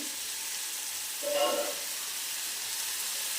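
Spice paste with chili powder, sambar powder and ginger-garlic paste frying in oil for egg masala, a steady close sizzle with a short louder burst midway.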